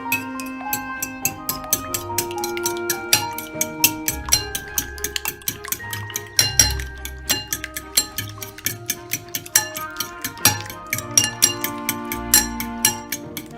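A whisk beats eggs in a bowl for scrambled eggs, giving a steady run of quick metallic clinks and taps against the bowl, close and regular throughout.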